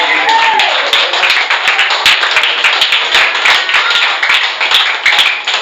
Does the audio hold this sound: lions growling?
no